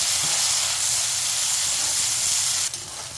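Tomatoes hit hot oil in a pan for a mushroom pepper masala, giving a loud, steady sizzling hiss that fills the whole moment and eases slightly near the end.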